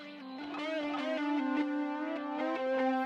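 Electric guitar solo processed in Logic Pro with an amplitude modulation effect, sustained notes pulsing in a steady tremolo-like flutter with swelling repeats, played alone without voices.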